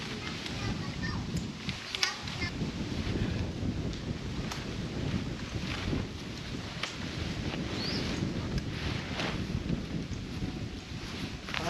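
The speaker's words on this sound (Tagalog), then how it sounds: "Ang lakas ng hangin." Strong wind sweeps across a campsite in a constant loud roar, with rumbling buffets on the microphone and faint voices underneath.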